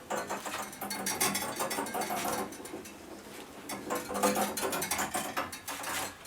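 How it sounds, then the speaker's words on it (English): Rhythmic ratcheting and grinding of a hand rod roller bending a 3 metre steel rod into a full circle for a welded fish pond cover, loud and close in uneven bursts. "Now I'm just going to roll the 3 metre lengths of rod into a full circle"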